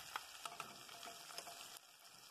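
Garlic, butter and onion fry in oil as the base for a kale farofa, giving a soft, steady sizzle with scattered faint pops and ticks, heard close and alone.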